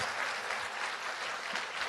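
A school audience claps at a fourth-grade promotion ceremony for students honored for academic excellence, even sustained applause at moderate level with no clear speech.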